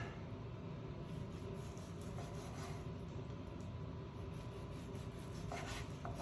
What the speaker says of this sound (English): And now we're just gonna slice it.